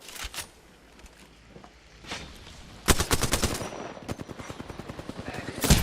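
Gunfire in the battle game Apex Legends: a few scattered shots, then sustained rapid automatic bursts that crack loudly and repeatedly to the end, with a player speaking faintly beneath.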